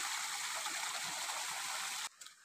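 Spring water in a monsoon stream in the Konkan countryside, a steady close rushing flow with broad gurgling that cuts off abruptly near the end, leaving only faint trickles.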